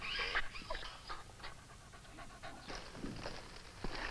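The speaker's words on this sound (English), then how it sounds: "Kemo Sabe, that boy's dog." An injured dog, hurt by what looks like a gunshot wound, pants in quick, steady breaths close by, with a few faint whimpering sounds mixed in.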